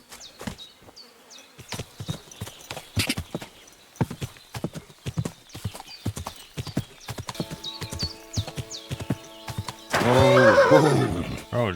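In Kingdom Come: Deliverance II, a horse's hooves clop in a quick, uneven rhythm, broken by insect-like buzzing and a loud whinny near the end, with no talk over it.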